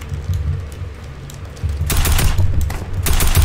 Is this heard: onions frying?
no